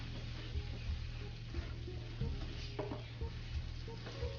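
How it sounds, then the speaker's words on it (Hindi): Pasta sizzles in melted ghee in a pan while being stirred for seviyan kheer, a soft continuous frying crackle with intermittent scraping stir sounds, close and fairly quiet. "जब ये मेल्ट हो जाए तो आप इसमें ये जो पास्ता है ये डाल दें।"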